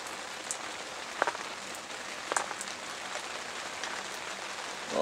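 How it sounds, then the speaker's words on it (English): Steady rain pours down at a turkey hunting camp, a dense, even patter with occasional louder drips striking a nearby surface, fairly soft and with no voices. "Raining at turkey camp."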